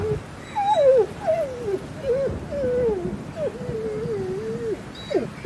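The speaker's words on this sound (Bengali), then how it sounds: "ওই সময় শুনলাম বাড়ির চৌহদ্দির বাইরে একটা কুকুরের কান্না।" A dog whimpers outside a house compound, a string of high, wavering whines and short cries repeating one after another over faint background hiss, used as a sound effect in a spoken ghost story.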